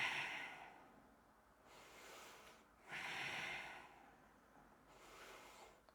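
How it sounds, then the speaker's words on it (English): Slow, deep breathing during a yoga flow, heard up close and quiet: three long airy breaths rise and fall, each rushing and slightly snorting, with soft gaps of near silence between them. "Breathing."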